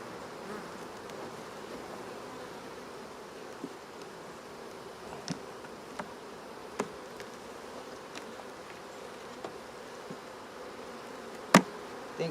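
Honeybees hum steadily around an open hive during a spring inspection of frames, a soft continuous buzz with occasional louder passes of single bees close by.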